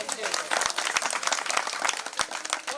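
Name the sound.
audience applause for Pushkar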